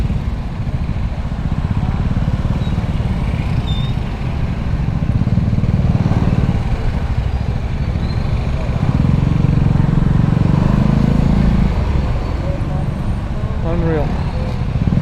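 Motorcycles riding through gridlocked traffic and along a sidewalk in Ortigas, Philippines, a loud continuous engine drone with passing revs, recorded close from a moving bike with someone talking over it.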